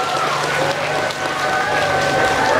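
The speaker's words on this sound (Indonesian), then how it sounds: "Wah, mantap, tepuk tangan semua." Students applauding together in a morning school gathering, a loud continuous clatter of many hands with a faint steady tone running through it.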